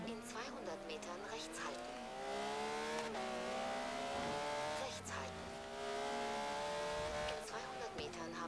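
A race car in Forza Horizon 3 screams near the rev limiter on a circuit, climbing through repeated gear shifts with short dips and tyre squeal, loud and up close, while someone talks over the engine.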